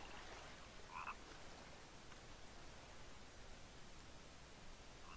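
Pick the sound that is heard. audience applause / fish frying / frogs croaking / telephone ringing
frogs croaking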